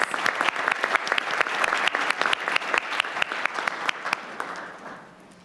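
An audience at a morning community health breakfast applauds to welcome a speaker, a modest crowd whose individual claps stand out sharply in a brisk rhythm before tapering off and fading away.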